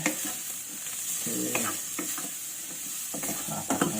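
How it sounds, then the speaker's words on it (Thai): Onions stir-fried in a pan for carbonara, with a steady close sizzle and repeated scraping stirs, no voices. "ใส่หอมลงไปเลยนะครับหอมเนี่ยเราควรผัดผัดให้ใส่นะครับ"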